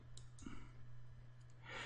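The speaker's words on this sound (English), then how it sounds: "At this point, I'll click Update." A single soft mouse click on an Update button in Aerohive HiveManager software, faint against a steady low hum, with a second light tap near the end.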